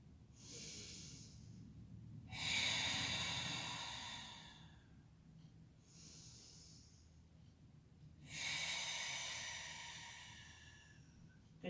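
Slow, deep breaths during a seated core stretch: long airy inhales and exhales in a relaxed rhythm, close and soft, with quiet pauses between each breath and no talking.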